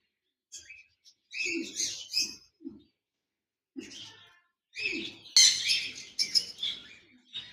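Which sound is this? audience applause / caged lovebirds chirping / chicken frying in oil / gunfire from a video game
caged lovebirds chirping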